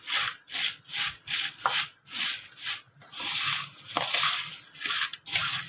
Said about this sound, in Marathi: आता हे आपल्याला एकजीव करून घ्यायचं आहे